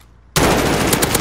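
Video game gunfire in a hard point match: brief quiet, then an abrupt, loud burst of rapid automatic shots that hammers on without pause to the end.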